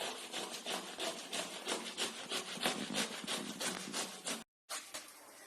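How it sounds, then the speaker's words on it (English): Raw beetroot grated by hand against a grater in a home kitchen, a steady run of close, rhythmic rasping strokes with a brief pause near the end before the scraping resumes. "what we're going to do is grate it, the same as we did the carrot"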